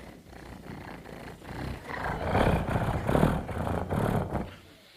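A voice imitates a cat purring, a low rumbling rattle close to the mic that swells louder in the middle and then fades out.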